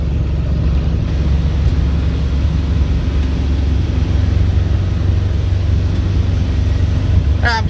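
A 2006 Sea Ray 270 SLX runs at about 3,000 RPM while cruising on the water, giving a steady, loud, low engine drone mixed with broad rushing water and wind noise that continues throughout.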